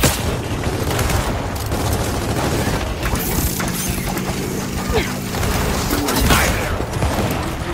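Sustained gunfire and mechanical clatter from combat in Gears of War 4, dense and loud throughout with crashes layered over a constant rumble.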